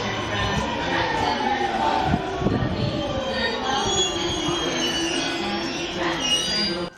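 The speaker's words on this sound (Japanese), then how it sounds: "山手線と言ったらこの音だよね。" A Yamanote Line train pulls into the platform with loud, sustained wheel squeal over its rumbling approach, the screech rising and wavering for several seconds close by.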